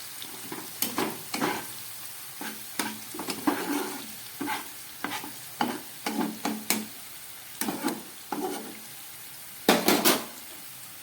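Mixed vegetables including capsicum fry in a pan over low gas as a spatula stirs them in repeated scraping strokes, the clatter and light sizzle close and clear with no talking.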